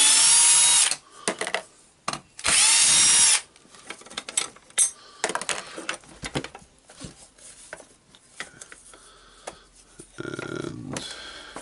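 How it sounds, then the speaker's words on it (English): Screws are backed out of the aluminum housing of a Dewalt D25831 SDS-plus rotary hammer, with two loud whirring bursts from a driver followed by quieter clicks, taps and handling noises, close up and without speech. "Now I will unscrew the screws here to take out this housing, the aluminum housing."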